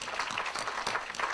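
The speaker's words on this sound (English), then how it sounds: "let's give them a round of applause for all their support." A dense wash of audience applause fills a commencement ceremony at Maui College on Molokai as graduates applaud staff, steady and full throughout with no clear gaps.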